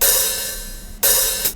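Open hi-hat sample played in a Polyphone soundfont, two bright sizzling strikes, each with a longer ringing decay, the second cut short, clear and close with no voices.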